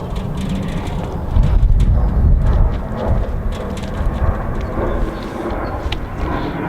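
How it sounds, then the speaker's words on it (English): Airplanes pass overhead above an allotment garden, a loud broad rumbling roar that swells in the middle and then settles into a steady distant drone, with no talking. "A bit busy overhead today with all the planes."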